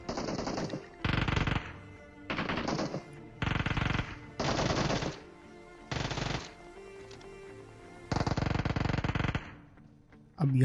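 Automatic gunfire from a shooting video game erupts in repeated loud bursts of rapid fire, each lasting about a second, separated by short quieter gaps over a faint background.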